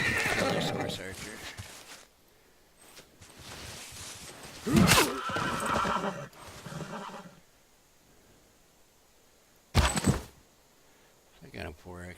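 Horse archer unit in a strategy video game: several loud horse whinnies and neighs with hoof clip-clops, coming in separate bursts with quiet gaps between them, plus brief game effect sounds.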